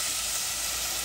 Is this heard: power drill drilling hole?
no